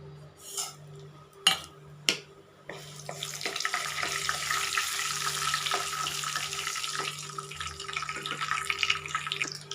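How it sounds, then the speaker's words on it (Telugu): Tempering seeds hit hot oil for a Telugu gooseberry (usirikaya) dal: a few light knocks and clinks, then a steady, bright sizzle and crackle that holds on close and fairly loud. "ఇప్పుడు ముందుగా తాలింపు గింజలు వేద్దామండి"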